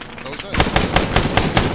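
Rapid automatic gunfire from the military video game ArmA3 erupts after a brief pause, loud bursts of shots in quick succession from close range.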